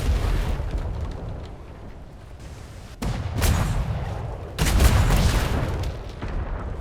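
Cannon fire from a Royal Navy sailing ship in a video game, with deep booming blasts rolling over a low rumble, two sharp reports landing a second or so apart amid continuous battle noise.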